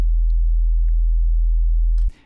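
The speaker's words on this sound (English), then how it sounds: "If we just have the original sine wave," A pure sine-wave sub bass from the Serum synthesizer sustains loud and steady for about two seconds, then cuts off abruptly.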